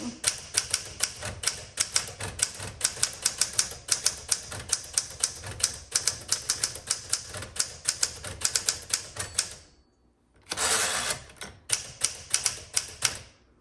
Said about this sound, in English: so the typing action